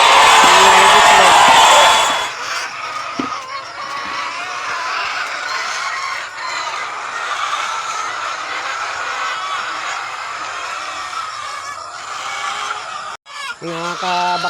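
Hens cluck and fowl chatter continuously in a busy coop, with a brief louder burst of calls at the start and background bird noise throughout.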